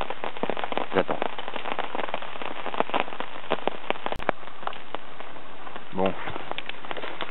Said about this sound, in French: il pleut toujours